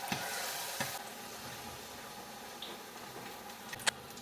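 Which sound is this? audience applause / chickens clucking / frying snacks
frying snacks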